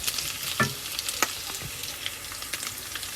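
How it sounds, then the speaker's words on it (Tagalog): Pork frying in a pan as the base for Ilocano pinakbet, a steady close sizzle and crackle with a few stirring scrapes, no talking. "lutuin natin muna itong pork natin"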